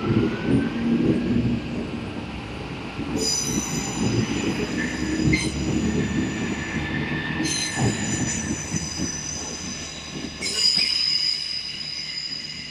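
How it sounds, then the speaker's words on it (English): A Great Western Railway train to Cardiff Central pulls away from Portsmouth Harbour, a continuous rumble of wheels on rail with repeated high metallic squeals from the wheels, fairly close and with no talking. "So pulling away is going to be the 10:23 Great Western Railway service to Cardiff Central from here at Portsmouth Harbour."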